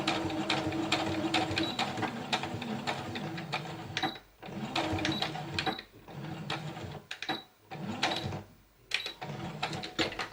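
A sewing machine stitches around a fabric flower in several runs of fast, rhythmic whirring and clatter. Short pauses break up the runs, and the sound stays close with no talking.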